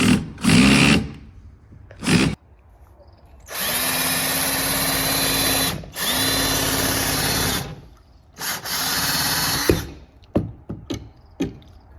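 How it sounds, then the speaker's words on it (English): A power drill whirs in several bursts drilling out rivets on an old snowmobile, short spurts first, then two long steady runs, stopping and starting with brief clicks and clatter between. "Currently drilling out the rivets for this."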